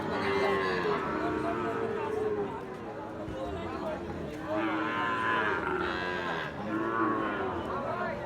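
Several cattle moo loudly in long, overlapping calls at a livestock market in Ambari, with voices and crowd chatter in the background.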